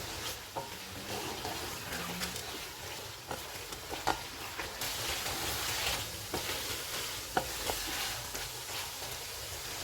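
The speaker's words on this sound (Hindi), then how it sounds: "इनको 2 से 3 मिनट तक भूनेंगे।" Turmeric, red chilli powder, crushed cumin, crushed coriander, salt and fenugreek roasting with mutton in a karahi for a Peshawari mutton karahi, a steady close sizzle with scattered scraping stirs and clinks throughout, no talking.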